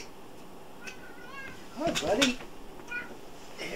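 A pet cat meows several times, short close calls with a louder, drawn-out cry in the middle, while someone speaks softly to it.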